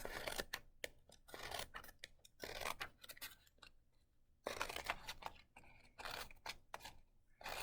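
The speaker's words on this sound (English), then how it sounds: "We are going to cut little slits like this onto his mane." Scissors snip repeated slits into a painted paper plate for a zoo animal's mane, a series of close, crisp cutting bursts with brief pauses between them and no talking.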